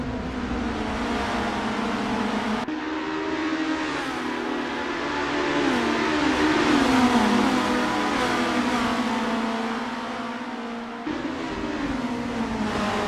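Race cars in Assetto Corsa accelerate as a bunched pack, engines droning in a continuous loud roar that rises and shifts pitch through gear changes, with no voices.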